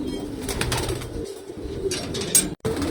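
Old-bloodline female pigeons coo at close range, a low rolling murmur broken by wingbeats and a few sharp bursts, with a brief dropout near the end.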